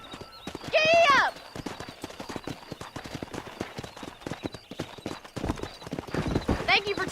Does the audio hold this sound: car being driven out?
no